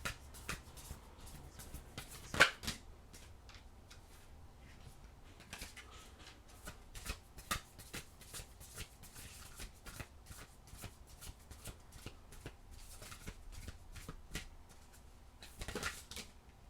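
Oracle cards are shuffled by hand in a quiet room, with soft repeated riffles and flicks and a few sharper snaps over about seventeen seconds.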